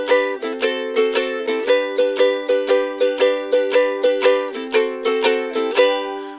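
Baritone ukulele in G strums a steady up-and-down shuffle, bright evenly spaced strokes of about three per second, close and alone.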